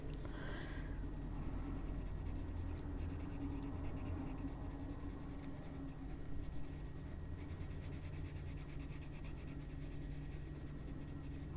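A coloured pencil scratches steadily across paper while colouring a mandala page with medium pressure, a soft continuous close-up rasp that holds for the whole stretch.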